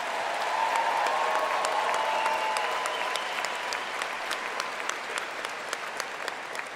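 Audience at a high school graduation ceremony applauding, a dense, steady wash of clapping that fades slightly toward the end with a few sharper claps standing out.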